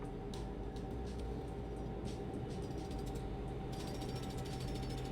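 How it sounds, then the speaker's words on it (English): A jackhammer pounds at a roadwork site in Euro Truck Simulator 2, heard from a passing truck: a continuous rapid mechanical rattle over a steady low engine drone. "They're always using jackhammers, coincidentally."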